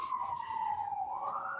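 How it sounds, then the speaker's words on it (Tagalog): An ambulance siren wails outside, a steady rising and falling tone that carries clearly at mid distance, heard alone without talk. "may ambulansya."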